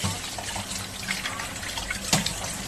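Running tap water splashes steadily while fresh mussels are rinsed in a sink before cooking butter garlic chili mussels, a continuous close gush with a brief louder splash near the end.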